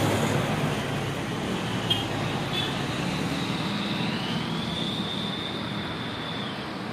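A bus on a road on Java's southern route, heard as a steady, close, continuous engine and rolling rumble with broad traffic noise throughout, no speech.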